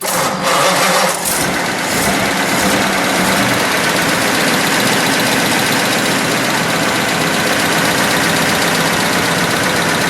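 A 1931 Hudson Series U Phaeton's engine starts and settles into a loud, steady idle, a smooth continuous rumble with a faint rhythmic exhaust pulse heard close up.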